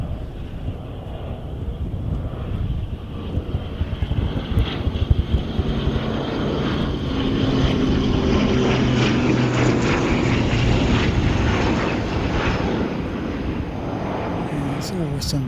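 A black-liveried propeller airliner at Christchurch airport, its engine drone building and swelling to a loud steady roar midway, with wind buffeting the microphone and a voice talking intermittently.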